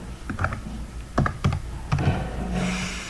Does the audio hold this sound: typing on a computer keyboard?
yes